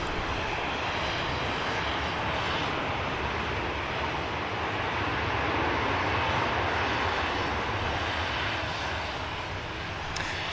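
An Aer Lingus airliner's jet engines roar steadily at an airport, a continuous broadband rush somewhat distant and moderately quiet, holding even over about ten seconds with faint wind.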